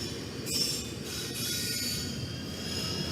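Norfolk Southern freight train NS 274 led by heritage locomotives NS 1074 and NS 8100 rumbles past, with a continuous rolling roar of rail cars and faint wheel squeal, steady and fairly loud.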